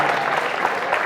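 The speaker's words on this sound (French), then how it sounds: "Et les applaudissements du public." An audience claps in a dense, continuous patter at the final of the Petit-Bourg international fencing tournament, steady and moderately loud throughout the short stretch.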